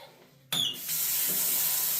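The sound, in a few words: water running into a gold pan being rinsed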